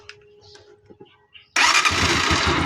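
A nearly new Honda TMX Alpha motorcycle with a ticking engine, just given a valve adjustment, sits quiet with faint background sounds, then fires up abruptly partway through and keeps running loud and close.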